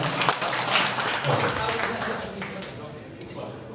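A room of students claps for two teachers during a church youth service, a dense, even patter of applause that fades slightly toward the end.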